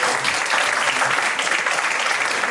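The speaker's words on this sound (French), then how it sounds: "de gros applaudissements pour l'équipe." Applause from an audience at a literary festival show, thanking the festival team: dense, steady clapping that fills the space without a break, with no voices rising above it.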